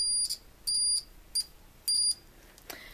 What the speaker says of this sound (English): you're going to want a multimeter. Set it to the function where it beeps.